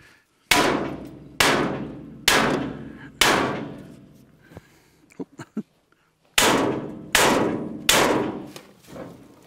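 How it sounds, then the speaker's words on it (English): A sledgehammer bangs metal on a crane part being moved onto new track, seven loud ringing blows in two bursts, with a few light knocks in the pause between them. "Where's the sledgehammer?"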